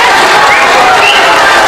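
Loud, dense audience applause fills a school hall at an eighth-grade moving-up and awards ceremony, a continuous close roar of many hands clapping.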